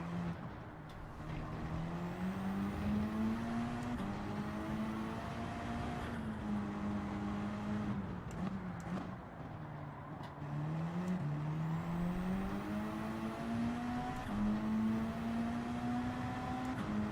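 A Mitsubishi Evo race car engine in the Gran Turismo 7 racing game drones steadily, its pitch rising and falling as it shifts through gears, with no talking over it.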